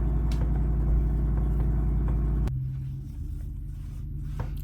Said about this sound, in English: My cousin had just started his truck, and it's like a really loud truck.